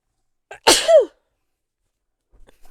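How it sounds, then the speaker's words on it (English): A single loud, close sneeze with a sharp intake just before it, followed by quiet. "Oh, I feel a sneeze coming."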